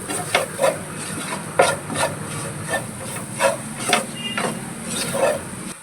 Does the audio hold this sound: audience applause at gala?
no